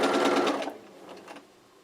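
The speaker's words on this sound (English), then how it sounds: "I'm going to place it here on my sewing machine. Again, I'm going to sew with a 1/4 inch seam." A sewing machine chain piecing quilt fabric with a 1/4 inch seam runs in a close, fast whirring burst that stops, then gives a shorter, fainter run before fading out.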